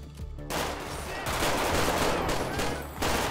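Bursts of gunfire in the video game GTA V rattle loud and dense after a brief quiet start, mixed with game noise and a voice.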